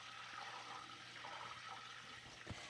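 Soft, steady bubbling and hissing of butter simmering in a pan as its water boils off into steam while making clarified butter, quiet and continuous with no voices.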